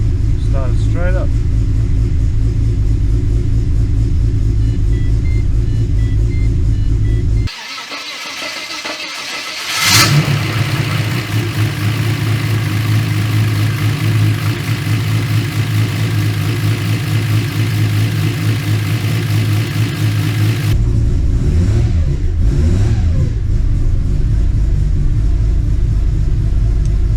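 An old car with crooked alignment starts and idles steadily, its engine rumbling loud and close with a brief rev partway through, then carries on running with a changing note near the end.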